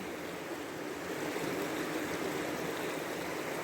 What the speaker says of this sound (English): Water's flowing pretty strong though.